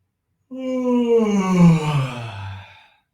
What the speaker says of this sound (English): Kind of a yawn, this one.